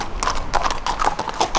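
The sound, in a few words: horses clip-clopping down the road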